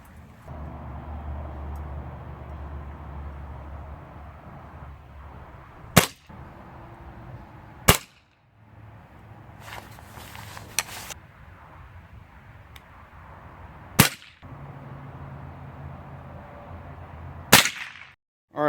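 A .177 calibre air rifle firing lead and alloy pellets, with five sharp, loud shots spaced a few seconds apart over steady outdoor background rumble and some brief rustling between shots.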